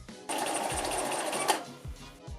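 A sewing machine runs in one steady, close burst for about a second, stitching the bodice of an 18th-century-style dress, with a few soft thumps of fabric handling before and after.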